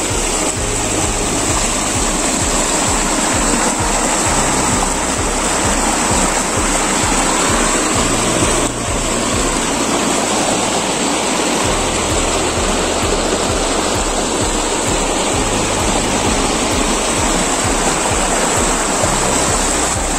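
A small waterfall on a country property pours into a shallow swimming pool below, giving a loud, steady rush of falling water that runs unbroken and close for the whole stretch, with no voices.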